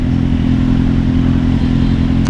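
Kawasaki Z800 motorcycle being ridden, its engine giving a loud, steady close-up drone with a rough, throbbing low rumble for a couple of seconds.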